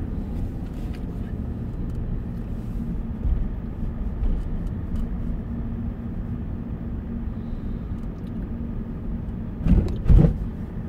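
Car driving through Ljubljana city traffic on an autumn Sunday, a steady low engine and road rumble throughout, with a brief louder swell near the end as something passes close by.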